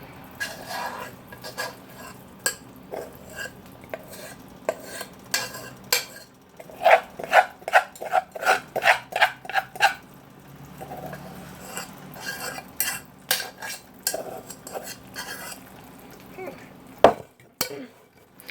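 A utensil scrapes and clatters against a pan as rice and vegetables are stirred, clusters of sharp metallic knocks up close separated by quieter scraping stretches, without speech.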